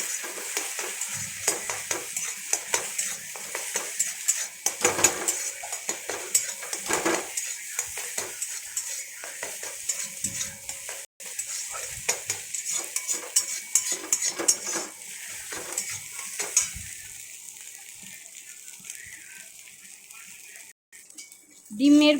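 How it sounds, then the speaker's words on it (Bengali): Salted egg is scrambled into small crumbles in a pan for egg fried rice, with repeated scraping and tapping of a utensil against the pan over a light sizzle, close and busy. "আমি ঝুরঝুরি বানাচ্ছি ডিমের।"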